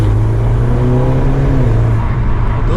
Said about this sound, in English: you can hear the turbo though